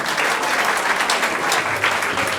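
A crowd at a youth dialogue event on building brands breaks into loud, close applause, a thick continuous patter of many hands with no voices over it.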